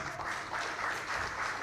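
Audience applause for a chairman at an MTN Uganda launch event, a steady wash of many hands clapping at moderate volume throughout, no voices standing out.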